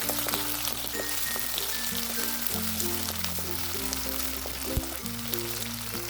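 Thickly sliced onions frying in a pan over a medium gas flame, giving a steady, even sizzle that holds for several seconds with low background music underneath and no talking.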